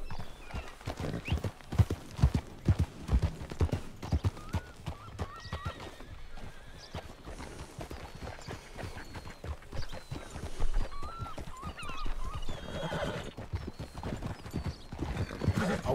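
A horse's hooves clip-clop in a steady walking rhythm throughout, with several whinnies and neighs rising over the hoofbeats at close range.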